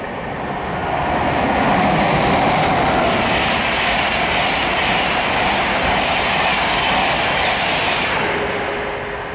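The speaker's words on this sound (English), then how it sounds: "Train now approaching the down fast. This is Intercity 225." An Intercity 225 passenger train runs through Hitchin station on the down fast line, a loud, close roar of wheels and rushing air that swells quickly, holds steady and then eases off at the end, with no voices.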